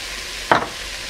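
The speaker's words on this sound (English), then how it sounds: "After browning the onions, I am going to add the barley, carrot and celery." A single brief hiss and clatter as barley, carrot and celery drop into a pan of browned onions, rising suddenly then settling back into a faint background sizzle.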